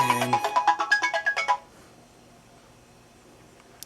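A YYGIFT smart video WiFi doorbell, pressed in testing mode, plays a bright electronic chime of about a dozen quick rising and falling notes, then cuts to near silence with faint room hiss.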